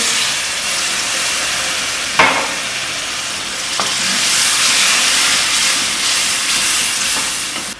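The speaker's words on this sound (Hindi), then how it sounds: "इसके अंदर हम 1 गिलास पानी का डाल रहे हैं भर के" A full glass of water hits a hot pan of mash daal keema and sizzles loudly and steadily, with a couple of sharp clinks of a utensil against the pan.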